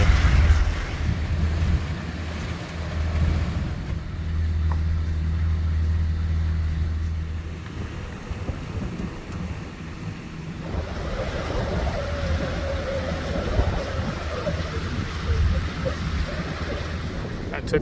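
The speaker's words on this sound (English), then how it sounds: "Right now, this one's loading cars. Car ferries." A car ferry loads vehicles at the water's edge, a deep steady engine drone with lapping water and wind noise across the mic, engines shifting partway through, with faint talk now and then.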